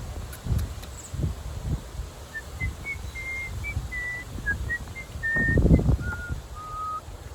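A person whistles a simple wavering tune of short, separate notes, thin and fairly soft, over rustling and light handling noises close by.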